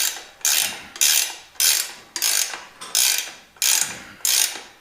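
A ratchet tightening the rear wheel of a Harley-Davidson Sportster bobber, giving seven evenly spaced bursts of rapid clicking, each a short swing of the handle followed by a brief pause, close and alone.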